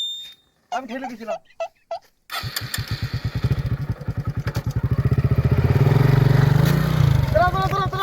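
A motorbike engine starts and revs up, then runs loud and close with a rapid putter. Brief voices are heard before the engine starts.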